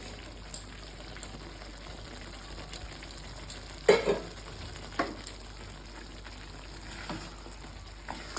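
A pan of Bengali shankar fish curry sizzles gently as it is stirred after powdered garam masala is added. It is a quiet, steady fry with a few soft scrapes and clinks mid-way, and no talking.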